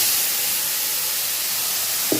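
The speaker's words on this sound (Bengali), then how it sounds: "তেলের মধ্যে গোটা গরম মশলা দিয়ে এবং পেস্টটা দিয়ে ভাজা ভাজা করে নিতে হবে" A spice paste fries in oil with whole garam masala, giving a continuous loud hiss that holds steady and close throughout, with no voices.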